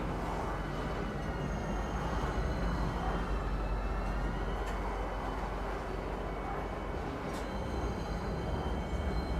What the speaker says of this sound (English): Ooh, the train.